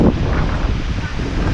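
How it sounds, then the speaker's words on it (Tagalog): Typhoon wind roaring against the microphone with heavy rain, a constant loud rumbling gust noise throughout, no clear speech. "Ulan saka hangin, grabe."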